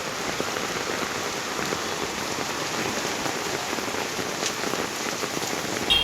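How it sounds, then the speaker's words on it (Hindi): Heavy monsoon rain pours steadily over Mumbai streets, a dense unbroken roar of drops drumming on surfaces, loud and close, with no voices. "ये देखिए बारिश,"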